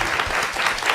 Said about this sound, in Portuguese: Muito bem, palmas pro Dudu.